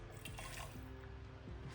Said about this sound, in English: what we're going to do now is add the water phase to the oil phase